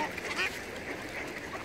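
Ducks and drakes on the Orlik River by a suspension-bridge dam quack softly while being fed, faint and somewhat distant under steady outdoor background noise.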